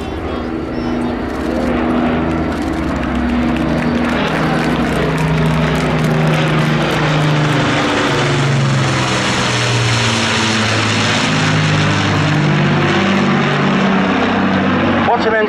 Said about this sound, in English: appreciate the roar of the iconic engines as they make their approach now